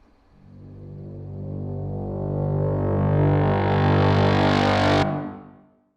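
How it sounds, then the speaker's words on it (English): A sustained synth chord swells and brightens, then the dry sound cuts off, leaving a reverberant tail that fades out over about a second. "I definitely want to have a little bit of reverb on here as well."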